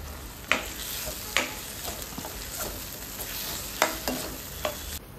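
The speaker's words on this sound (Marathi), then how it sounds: "त्याला चांगलं परतून घेऊया." Small diced potatoes and kokum sauté in a pan: a steady close sizzle runs throughout, with a spatula scraping the pan in sharp strokes about once a second. No one speaks.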